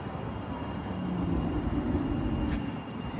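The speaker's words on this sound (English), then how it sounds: "Here's the tram train now, coming a couple of minutes early into Tinsley Tram Stop." Sheffield Supertram tram train pulling into Tinsley Tram Stop, a low steady rumble of wheels and motors rolling close by at moderate level, with a brief high squeal partway through.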